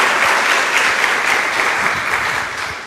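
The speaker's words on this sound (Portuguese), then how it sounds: "dá uma salva de palmas a Jesus." Church congregation clapping together in a sustained, dense round of applause that holds steady for the whole stretch, then eases slightly toward the end.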